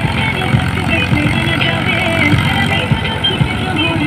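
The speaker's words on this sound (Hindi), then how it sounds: "ये फार्म ट्रैक्टर है, फुल लोड ट्रॉली के" A loaded Farmtrac tractor engine drones steadily as it pulls a fully loaded trolley uphill on a road, a loud, continuous low rumble with someone talking over it.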